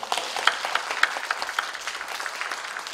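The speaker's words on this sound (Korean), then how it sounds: "한 번 더 크게 박수 한번 하겠습니다." A church congregation at an evangelism seminar claps for a pastor's lecture, a steady round of many hands with a few sharper claps standing out, heard from a moderate distance.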